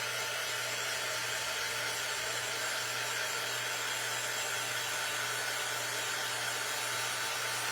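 A handheld hair dryer blows steadily on a freshly painted craft board, a constant close, even airflow whir with no breaks and no talk.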